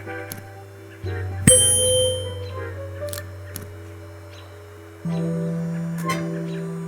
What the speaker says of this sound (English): I can believe he was the only one to make the bell ring.